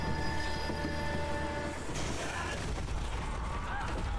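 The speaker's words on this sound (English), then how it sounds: "Train, uh-oh." Train rumbling in the Zombie Army 4 video game during a cutscene, a steady loud mechanical rolling with a sustained tonal whine, then rising clatter and hiss partway through.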